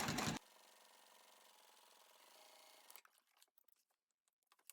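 A sewing machine stitches a crossbody bag with a brief loud burst, then a soft steady motor hum, followed by scattered faint rustles and clicks of handling the fabric.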